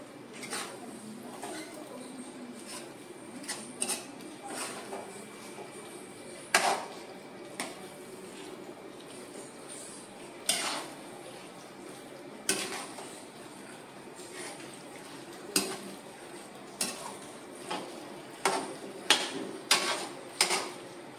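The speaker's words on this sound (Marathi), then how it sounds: "हे आता व्यवस्थित आपल्याला परतून घ्यायचं आहे।" A utensil stirs and sautés food in a pan, giving irregular metallic clanks and scrapes that are sharp and close over a low, steady background hiss, with no talk.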